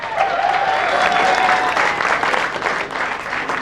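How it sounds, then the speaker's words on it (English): Audience at a 1997 Hawthorn Hawks AFL club night claps steadily for the Hawthorn players, a dense, loud sustained round of applause with a faint voice and tone beneath. "Give the guys a big clap."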